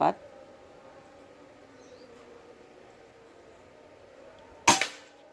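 A single sharp, suppressed crack of a Bocap Pajero Gen 5 PCP air rifle near the end, short and close, following a stretch of quiet background hum.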